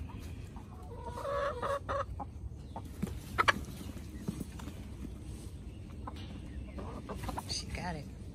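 Hens cluck near and far while being fed ragged strawberries outdoors, with scattered calls and a few sharper squawks, and someone talking now and then.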